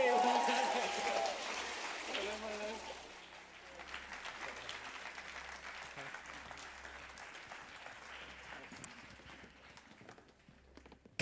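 A church congregation breaks into sustained applause after a baptism, a dense wash of clapping that starts over a brief spoken voice and carries steadily before thinning at the end.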